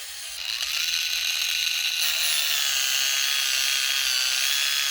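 Electric foot file grinding hard skin and calluses off feet, a loud continuous high-pitched buzzing whine held close and steady throughout, no talk.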